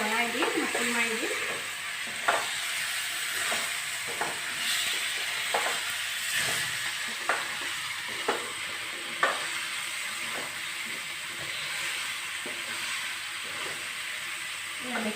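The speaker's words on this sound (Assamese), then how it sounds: "নিমখ দি এবাৰ ভালদৰে লৰাই দি মচি মাৰি দিম।" Duck meat with salt being stirred and fried in a pan, a steady close sizzle with repeated scraping clacks of the spoon against the pan throughout.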